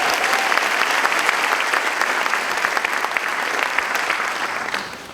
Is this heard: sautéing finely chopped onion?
no